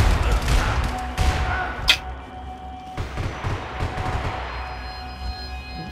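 Gunfire in the multiplayer video game Max Payne 3, bursts of sharp shots with a loud cluster early on, then scattered reports and thumps against game ambience.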